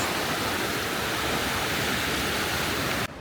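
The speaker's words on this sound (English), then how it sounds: "This river is crazy fast!" A crazy-fast river in Lucerne, Switzerland, rushes in a loud, continuous broadband roar with no pauses, cutting off abruptly at the end.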